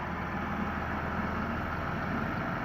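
A brand-new Trakstar tractor engine idles steadily and close by, a continuous low rumble with no breaks and no voices over it.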